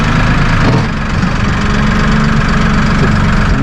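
A Massey Ferguson 1840E compact tractor with a 39.4 hp engine and front loader idles close by in a loud, even diesel rumble with a steady low throb that barely changes.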